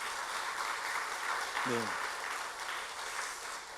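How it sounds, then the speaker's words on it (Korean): A church congregation applauds during a sermon, a steady, even spread of clapping from a crowd that holds for several seconds, with one short spoken word in the middle. "앞으로도 잘 부탁드린다고 우리 박수 한번 치시죠."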